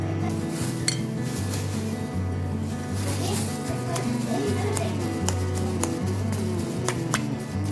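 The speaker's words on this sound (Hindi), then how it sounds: "अब इनको फोक के साथ हम क्रश करते हैं" A fork crushes boiled, peeled potatoes in a bowl, with steady soft mashing and scattered clinks of metal on the bowl, and someone talking faintly over a low background hum.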